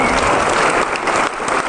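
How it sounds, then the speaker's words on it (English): Conference audience at a hacker convention breaks into brief applause, a dense, loud burst of clapping from many people filling the short moment. "Maybe everyone want to give him a clap?"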